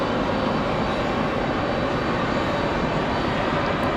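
Airliner at Raleigh-Durham International Airport, a loud, steady broadband engine roar filling the whole span without letup.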